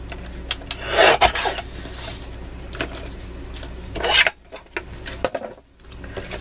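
Cardstock being trimmed on a handmade gift card, with two bursts of scraping, rasping cuts about three seconds apart, close and fairly loud, between quieter handling noises and brief pauses.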